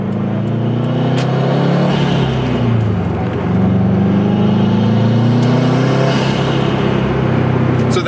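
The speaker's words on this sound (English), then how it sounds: "the intake sounds really good" Cabin view of a 2004 Subaru STI under way, with steady loud engine rumble and intake and turbo noise rising and falling as the revs change, no talking.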